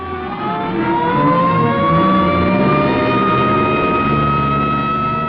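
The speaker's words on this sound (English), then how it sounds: "here comes an ambulance out." An ambulance siren wails steadily with long rising and falling tones, loud and continuous, over a rumbling vehicle engine.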